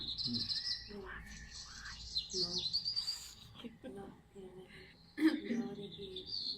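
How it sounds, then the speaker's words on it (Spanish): Recorded wild bird song for species identification: repeated high chirps and short trills, some clear and some fainter, overlapping in an outdoor setting with a faint insect-like buzz underneath. "pueden escucharlo para ir tratando de identificar qué especie correspondería el trinar de cada ave"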